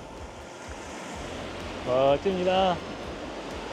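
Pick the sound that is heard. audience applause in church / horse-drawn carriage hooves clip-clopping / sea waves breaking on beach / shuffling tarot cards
sea waves breaking on beach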